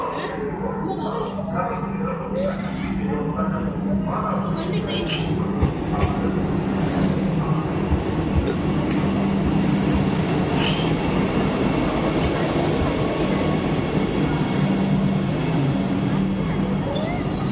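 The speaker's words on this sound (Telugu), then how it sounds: "మా ట్రైన్ అయితే వచ్చేస్తుంది. ఫస్ట్ టైం వందే భారత్ ఎక్స్ప్రెస్లో మా ప్రయాణం." A Vande Bharat Express train pulling into a station, with a loud continuous low rumble of wheels and carriages, a steady hum and occasional squeals and clicks, near and sustained.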